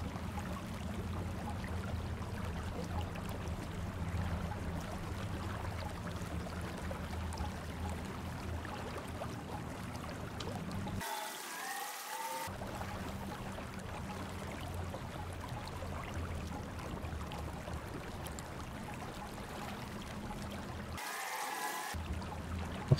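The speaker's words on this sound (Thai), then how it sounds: "เทน้ำไหลมาทางนี้" In the Once Human video game, poured water flows with a steady, rushing trickle that continues for a long stretch, briefly cut by two gaps, with no voices over it.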